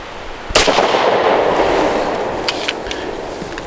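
A Smith & Wesson Equalizer, a lightweight compact pistol, fires a single sharp, loud shot close by, its blast decaying into a long echoing tail with a few faint clicks afterward.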